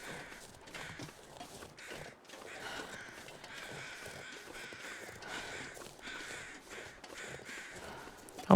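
Crows caw repeatedly in The Long Dark, the harsh calls moderately distant, mixed with crunching footsteps over a faint outdoor ambience.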